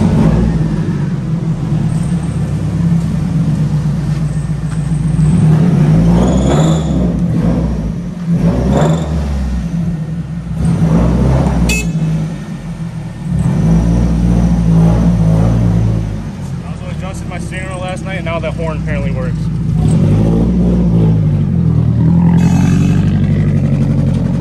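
A Nissan S14 240SX with a full big brake kit on a test drive, its engine rumbling and revving in repeated surges from inside the car, loud and close, with someone talking over it at times.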